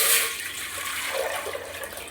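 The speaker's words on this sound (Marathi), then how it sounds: "आता पातेल्यात मी हे पाणी टाकून घेते." Water poured into a cooking pot while making sago potato papad, a steady close splashing gush with a brighter burst at the start, continuous throughout.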